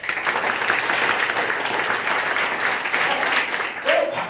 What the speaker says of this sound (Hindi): एक बार दिल खोल के गैलीलियो में जो जोरदार ताली बजाओ।